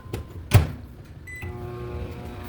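A microwave oven reheating leftover rice starts up after a couple of sharp clicks and a thud of the door, then settles into a steady low hum with a faint electronic tone, close and moderately loud.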